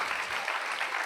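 Brief burst of studio audience applause on a variety show after a catwalk demonstration, a short, fairly faint wash of clapping.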